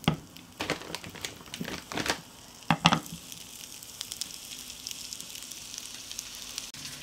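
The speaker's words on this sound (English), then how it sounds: "So I'm just going to start heating my sausage through." Sausages sizzle and crackle steadily in a frying pan, a close, continuous hiss with a few louder pops and scrapes early on, then settling into an even frying sizzle.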